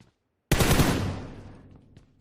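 A loud burst of gunfire in the mobile battle-royale game PUBG Mobile on the Vikendi map, a sudden sharp onset that rings out and decays over about a second and a half.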